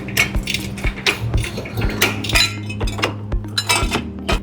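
A metal jack stand set under the pinch weld behind the front tire of an Audi S4, a series of close metallic clinks and clanks with a steady low hum beneath and no talking.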